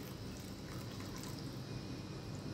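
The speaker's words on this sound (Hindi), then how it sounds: "और साथ में यहाँ पर पानी ऐड करूँगी।" Water being poured into a pan of beef mince with garlic-ginger paste and salt, a steady close trickling and splashing that runs unbroken throughout, with no talk over it.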